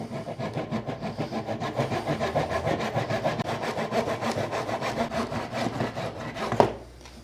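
Hand saw cuts through wood for a rustic wooden bracket with steady rhythmic rasping strokes, close and even, ending in a sharp snap as the piece breaks off.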